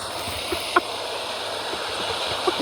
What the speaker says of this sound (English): This water's so loud, you can probably barely hear me.